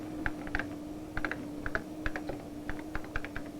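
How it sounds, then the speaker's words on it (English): Steady, close keystrokes on a 1983 microcomputer keyboard, a run of irregular clicks with short pauses, over a constant low hum. "To enter information, you just type a letter, a document, or as in this case, paragraphs from your novel."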